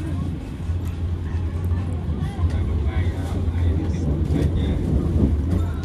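Steady low rumble and hum inside the Kahuripan train as it pulls out of Purwosari, a continuous rolling drone with faint murmuring voices beneath it.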